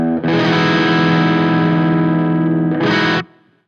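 Electric guitar chord through a pedal set to symmetrical clipping, crunchy and compressed in a cranked-Marshall style, sustaining loudly for about three seconds, then a short final stab before fading.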